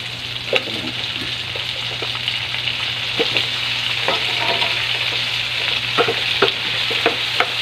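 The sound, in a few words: sweet potato added to sizzling pan with tomato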